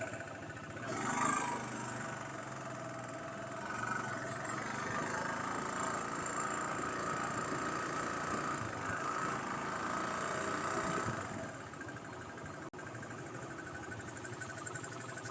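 A Suzuki GS 200 motorcycle with a 200cc engine swap runs steadily on a road test ride, its mid-pitched engine drone continuous and moderately loud, with a brief louder surge near the start and a slight drop toward the end.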